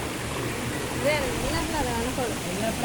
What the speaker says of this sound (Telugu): వాటర్ ఫ్లో భలేగా అవుతుంది కదా